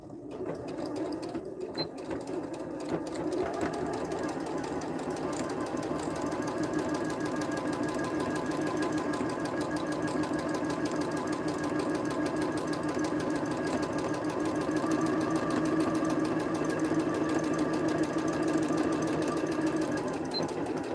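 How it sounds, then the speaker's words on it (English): A sewing machine stitches a quarter inch seam along the edge of a fabric gift bag, humming steadily and close with a fast, even needle rhythm for the whole stretch after a brief start-up. "So I'm going to sew along this edge and then the other side as well with a 1/4 inch seam"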